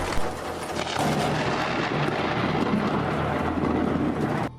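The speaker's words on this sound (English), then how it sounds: "When the lightning struck the middle of the river, it created a loud, echoing explosion and an intense, dramatic scene." Lightning striking the middle of a river, giving a sustained, loud, rumbling thunder crack with an echoing boom that rolls on for several seconds without letup.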